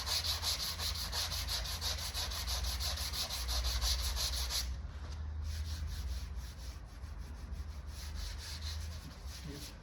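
Vehicle body panel being hand-sanded with 80 grit paper during collision repair, a steady close scraping rub that changes texture partway through and continues without talk.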